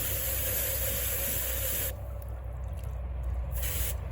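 A strong hissing spray of water on freshly harvested greens runs for about two seconds, drops off briefly, then bursts back on near the end.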